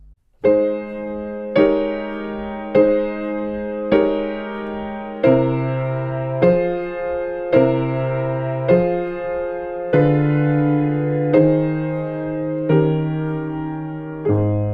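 A slow sequence of sustained piano chords, each struck cleanly and left to ring, moving through a harmonic progression via a diminished seventh chord on the sharp fourth to a resolving close.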